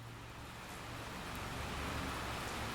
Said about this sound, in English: It's raining, and Sean Peoples can't get any harvesting done today